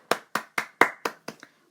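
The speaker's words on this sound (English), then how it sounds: "I'm gonna give a little clap" A person claps six times at an even, unhurried pace, each clap sharp and close with a quick decay, the last one softer and followed by a faint double tap.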